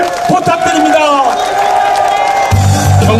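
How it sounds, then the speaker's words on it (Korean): Crowd applause and cheering welcome gubernatorial candidate Yoon Jin-sik at a Chungbuk campaign rally, a dense steady roar of clapping and voices with a loud amplified tone entering near the end. "환영의 박수를 부탁드립니다"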